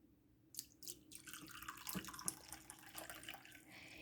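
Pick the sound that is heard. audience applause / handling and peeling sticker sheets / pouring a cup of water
pouring a cup of water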